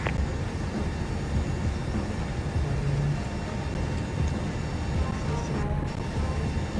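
Aircraft on the ground before takeoff in a flight simulator game, a steady broadband engine and cabin drone holding at even loudness throughout, with faint brief tones and no clear speech over it.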